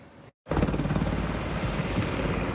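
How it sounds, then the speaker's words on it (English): Military helicopters circle over Puerto Vallarta amid rising smoke, a loud continuous rotor and engine roar that fills the clip after a brief cut of silence near the start. "In the skies above Puerto Vallarta, military helicopters circled over smoke rising from fires"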